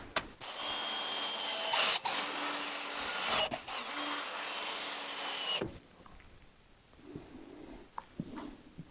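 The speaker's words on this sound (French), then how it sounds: "je vais visser-coller" Power drill boring and driving screws into wood during a joinery job for invisible keyhole-slot fixings, loud broadband whirring for about five seconds with brief stops, then a quieter stretch of light handling knocks.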